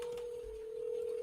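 A telephone call to a restaurant is placed, with a faint, steady single-pitch tone droning evenly for just over a second and no talking.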